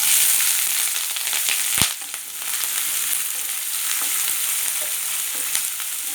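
Onion and green chilies hit hot oil with mustard seeds and cumin, setting off a loud continuous sizzle and crackle, with a sharp pop or clatter near the start and scattered spitting throughout.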